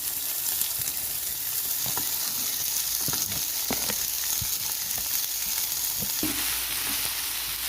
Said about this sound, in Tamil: இப்போ வந்து நல்லா கீரை கொஞ்சம் எண்ணெயில் நல்லா வதங்கட்டும்.